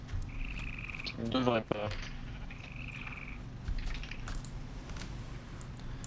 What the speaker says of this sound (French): cette ambiance de folie entre les grillons, les criquettes, le vent, c'est magnifique